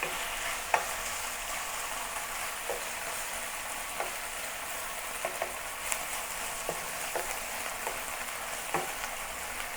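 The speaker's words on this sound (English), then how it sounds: "Let it sear one side of it and then turn it over. Stir fry it until it is cooked." Beef stir-fries and sears in a pan alongside bok choy, a constant crackling sizzle broken by scattered sharp clicks of stirring, close and continuous with nobody speaking.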